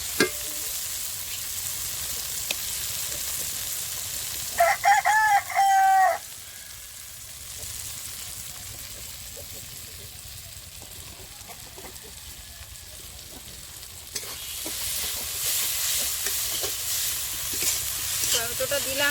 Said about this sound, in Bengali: এবারে আমি এই বাটা মশলাটা দিয়ে দেবো